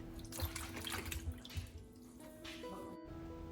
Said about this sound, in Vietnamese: mình rửa sạch với nước mà đang chảy như vậy